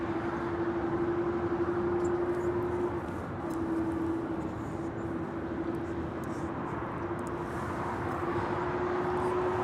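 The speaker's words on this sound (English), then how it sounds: "We do have JetBlue Airways Flight 288 heading to Boston. It's an A321 making it way down to 24 right." A JetBlue Airbus A321 bound for Boston rolls toward runway 24 right at LAX, a steady broadband engine roar with a sustained whine running through it, moderately loud and continuous from start to finish.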